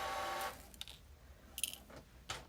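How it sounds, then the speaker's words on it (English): A home printer running nearby: a faint tonal whirring burst at the start, then scattered short mechanical whirs and clicks at a low level, with no talking. "Pardon my printer there."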